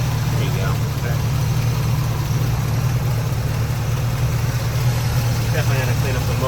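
A 1972 Chevrolet C10 4x4 with a 350 V8 idles smoothly and steadily, a low, even rumble close by, with talking over it.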